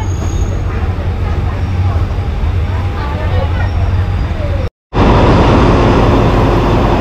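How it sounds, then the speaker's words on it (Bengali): A local train in Thailand rumbles and clatters loudly along the tracks arriving at a station, a steady roar that cuts out briefly and then returns even louder and closer. "ট্রেন এসে গিয়েছে স্টেশনে একদম"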